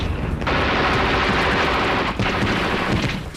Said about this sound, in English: Egyptians were firing from well-protected caves and crevices on either side of the pass.